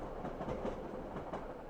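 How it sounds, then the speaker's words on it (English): A train passes steadily in the background on the Isle of Wight, giving a faint, continuous rumble with soft clattering wheel noise and nothing else heard over it. "So I thought, oh, there goes the train."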